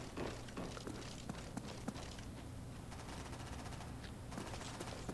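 Rapid gunfire from a weapon picked up off another player in a video game, a steady fusillade of quick shots with scattered thumps and footsteps, fairly faint, no speech.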